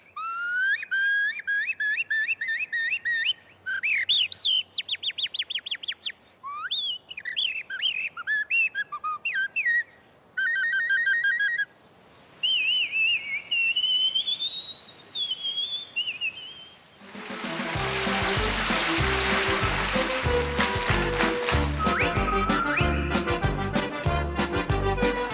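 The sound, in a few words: human imitating bird song by whistling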